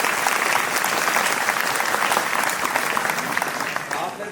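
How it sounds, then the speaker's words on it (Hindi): Loud, sustained applause from an Independence Day 2025 event audience, a dense wash of clapping that holds steady throughout and tapers slightly near the end, with no speech over it. "उनके लिए भी एक बहुत जोरदार तालियों से उनका स्वागत किया जाए।"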